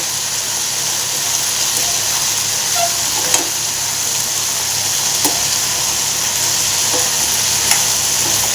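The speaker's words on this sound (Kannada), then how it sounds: "ಮಿಕ್ಸ್ ಮಾಡಿ ಚೆನ್ನಾಗಿ ಫ್ರೈ ಮಾಡಬೇಕಾಗುತ್ತೆ" Steady loud sizzling of vegetables frying in a pan, with occasional soft scrapes and clinks as they are stirred.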